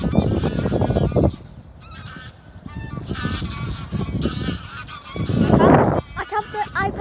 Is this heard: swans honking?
yes